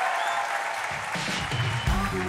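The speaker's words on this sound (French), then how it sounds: "Applaudissez tous les comédiens qu'il y avait ce soir, s'il vous plaît." Steady applause from a comedy show audience fills the whole stretch, dense clapping with a voice speaking over it toward the end.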